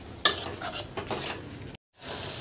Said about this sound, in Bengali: এবার কিছুটা জল দিয়ে দেব, মশলা ধোয়া জলটা দিয়ে ভালো করে কষিয়ে নেব।